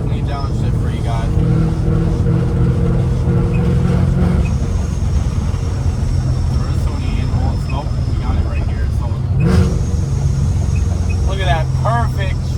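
A supercharged Ford Mustang GT downshifts with a rev-matched blip, its exhaust rumbling loudly from inside the car with a brief sharp rev spike, while a person talks over the steady engine drone.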